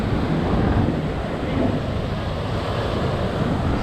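High surf rolling in at Anjuna beach on the Goa coast, a steady loud roar of breaking waves mixed with wind buffeting the microphone throughout.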